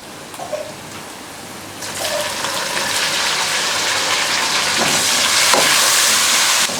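Tomatoes tipped into hot oil with frying ginger-garlic paste, a loud steady sizzle that swells after a short drop and keeps hissing, close and continuous, with no talking.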